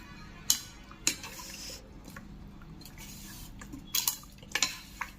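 Chicken being mixed by hand with spice marinade in a bowl for grilling: scattered sharp clinks and wet clatters against the bowl, a few distinct knocks with quieter squelching in between, close and without talk.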